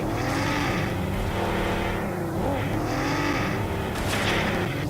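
Car engines from a video game battle lobby with bumper cars in play, a steady continuous roar of motors driving and revving throughout, with no talking.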